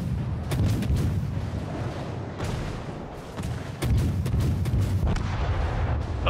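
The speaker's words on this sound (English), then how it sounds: "Good explosion physics in this game." Naval battle in World of Warships, with deep booming ship explosions and gunfire cracking repeatedly over a constant low rumble, loud and dense throughout.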